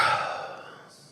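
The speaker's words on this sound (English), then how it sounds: "take a nice big deep breath" A single deep, airy breath, loudest at the start and fading slowly over about a second, close and alone with no talking.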